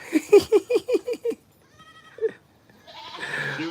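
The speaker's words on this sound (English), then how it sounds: "There's a goat in there now, isn't there?" A goat bleats in a rapid series of short, nasal, vibrating calls close by, followed by a single further bleat after a pause, then a rustling background noise.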